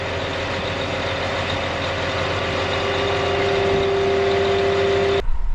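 A heavy tractor engine drones steadily and loudly with a sustained tonal whine while dragging a jackknifed drill, then the sound cuts off abruptly near the end.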